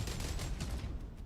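Rapid gunfire in the video game Jump Space: a dense, close fusillade of overlapping shots that rolls on loudly, then thins out toward the end.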